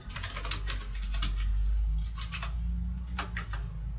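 Someone types a username on a computer keyboard while setting up a Windows 7 machine, producing quick bursts of close, crisp key clicks over a steady low hum.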